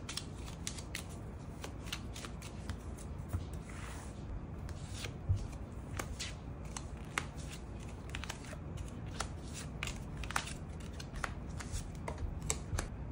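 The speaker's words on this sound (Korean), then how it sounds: "추가 카드 뽑아보도록 하겠습니다" Tarot cards being shuffled and drawn for a weekly fortune reading, a continuous papery riffle and rubbing with crisp snaps of cards, close and steady, without speech.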